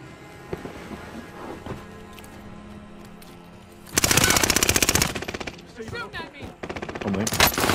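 Gunfire from a laser tag shooter video game comes in loud, rapid machine-gun bursts after a quieter stretch of faint game sounds. A second burst follows near the end.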